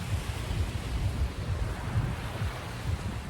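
Waves breaking and wind at Playa Las Colorados, a natural beach of black igneous rock on Lanzarote, a continuous rumbling surf with strong buffeting wind across the microphone, no voices.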